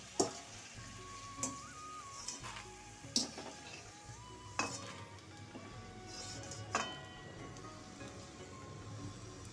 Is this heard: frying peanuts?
yes